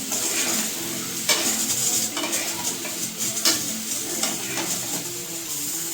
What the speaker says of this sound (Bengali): ভালো করে নেড়ে চেড়ে ঢাকা দিয়ে এটা ভাজতে দেবো